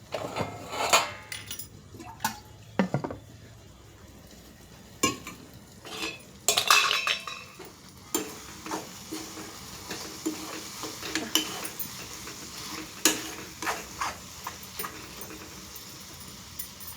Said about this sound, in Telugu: మనం చిన్నగా గుండ్లు వేసుకున్నాం కదండి, అందులో బాగా వేయించుకోవాలి